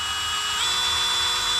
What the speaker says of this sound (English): if I just go in with a drill bit and just have it face down